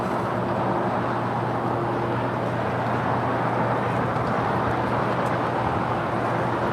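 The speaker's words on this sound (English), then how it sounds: "China Southern Airlines flight 5222 departing to Shenzhen, departing there on the north side" A three-year-old China Southern Boeing 787-9 Dreamliner departs from the north side of LAX, a loud steady engine roar with a low droning hum held throughout, no voices.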